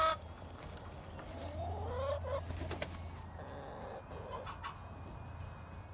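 Backyard chickens clucking and calling in a coop in the morning, a steady chorus of overlapping clucks and squawks close by with a low hum underneath and no talking.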